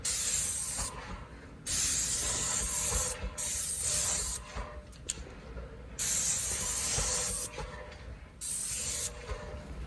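A spray gun lays lacquer onto cabinet boxes during a repaint, giving loud, close hissing bursts of a few seconds each, broken by brief pauses, with no speech.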